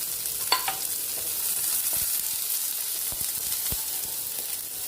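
Cut onions and red chillies sautéing in hot oil for a tomato chutney, a constant close sizzle with a few light scrapes and taps of a spoon stirring through the pan.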